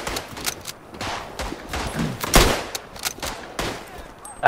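Machine gun fire in a WW1 battle game set at Tannenberg, with repeated sharp bursts and single shots cracking close and loud over a dense battlefield din.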